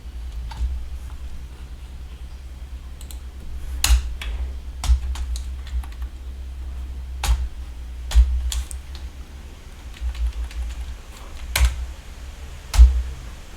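Typing on a computer keyboard while entering Python code, with irregular clicky keystrokes in short bursts and isolated presses, close and fairly clear over a low steady hum.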